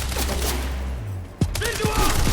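Gunfire in the video game Quantum Break, a rapid burst of loud shots over a rumbling firefight with a sharp crack near the middle. Voices shout briefly.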